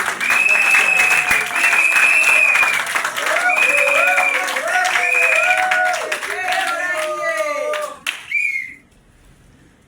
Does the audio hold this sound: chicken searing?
no